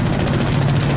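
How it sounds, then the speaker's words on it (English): Helicopter in the shooter game Insurgency: Sandstorm, a loud, steady rotor thrum with rapid rhythmic pulsing and a sustained low drone, heard close and alone for a moment. "It's a helicopter."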